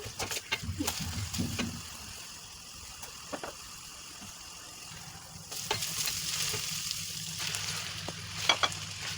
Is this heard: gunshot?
no